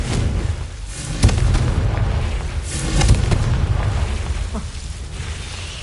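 Confringo fire spell explosions in the Hogwarts Legacy video game, several heavy booming blasts over a rumbling, roaring bed, loud and close, with a few sharper cracks between them.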